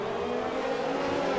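A race car engine in the F1 video game on a race at Mexico, a loud, steady high-pitched whine held close for a brief moment with no talk.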